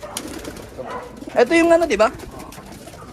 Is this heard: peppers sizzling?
no